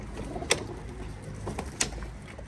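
Soft cooing of pigeons over quiet background noise, with a couple of brief sharper bird calls.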